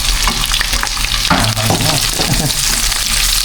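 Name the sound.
onions sautéing in a pan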